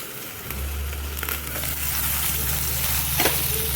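Stuffed masala green chilies sauté in a pan over a very low flame, giving a steady soft sizzle with a low hum beneath, constant and close throughout.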